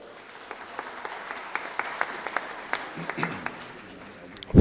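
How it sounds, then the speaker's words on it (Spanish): Scattered clapping from a small audience at a Diablada history talk, sparse and uneven claps that thin out, with a brief louder thump at the end. "Lo recibimos con un fuerte voto de aplauso."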